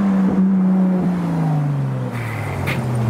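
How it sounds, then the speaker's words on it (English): A black Ferrari LaFerrari and a black Ferrari 812 drive by in convoy on a London street, one steady, loud engine note gradually falling in pitch as they pass close by. "Black LaFerrari, black 812."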